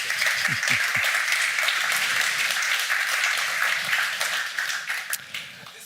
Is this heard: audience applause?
yes